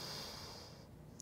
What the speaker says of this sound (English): Inhale, exhale. Inhale,